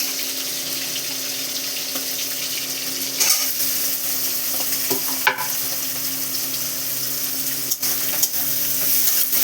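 Prawns fry in a pan with chopped green chili and onion, giving a steady close sizzle broken by occasional stirring scrapes and clinks, with no talking.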